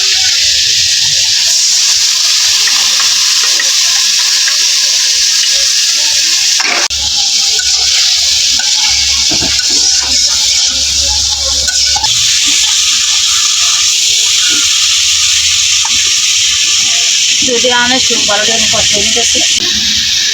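Potatoes and spices fry in a pan, producing a loud, constant sizzling hiss that fills the whole stretch, with a few brief clatters and scrapes on top.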